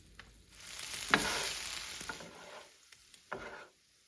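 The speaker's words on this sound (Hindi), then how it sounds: "ये देखें 10 मिनट में इस कलेजी को फ्राई किया" Mutton liver (kaleji) sizzling on a tawa, a soft steady frying hiss with a few sharper stirring scrapes and pops, fairly quiet and close.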